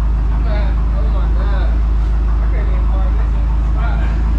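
A loud BMW M6 engine with a body kit drones with a heavy low rumble throughout, while people talk over it.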